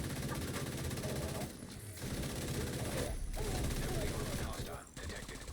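A heavy machine gun in the video game The Division 2 fires in long, dense, rattling bursts, loud and continuous with a few brief pauses between strings of shots.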